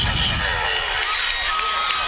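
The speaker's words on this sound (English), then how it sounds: "Commodore fans are still here and very vocal." Crowd cheering at a high school football game, a dense, continuous wash of shouting and whooping voices heard from within the stands for a couple of seconds.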